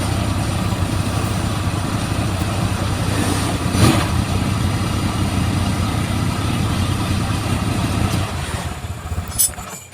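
An engine idles steadily and continuously after its magnet seal was replaced, a low, even rumble with no pauses and a brief bump partway through.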